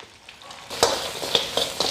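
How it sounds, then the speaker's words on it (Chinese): Ginger and scallion stir-fry in a wok with oil over high heat after pork ribs are seared. Sizzling rises sharply partway in, broken by a few quick spatula scrapes, close and fairly loud. "稍有煸炒了点姜葱。"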